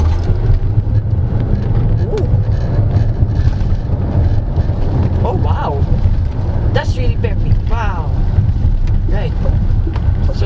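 A 2024 Dongfeng Aeolus Huge hybrid car drives in sport mode, with a steady low cabin rumble of road and drivetrain noise running throughout, and someone talking over it.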